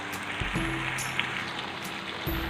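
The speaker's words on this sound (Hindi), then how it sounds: "चिकन फ्राई हो रहा है" Chicken frying in a pan for white masala karahi gives a soft, spattering sizzle, with intermittent clinks and a faint tonal hum from the kitchen. Nobody speaks.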